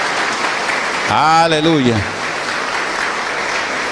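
Congregation applauding during a church service, steady clapping throughout, with a voice calling out briefly over it near the middle.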